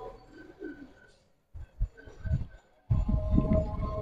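A loft pigeon, a silver-coloured fancy breed, coos in low, soft, throaty bursts close by, with brief pauses between the calls and no voices.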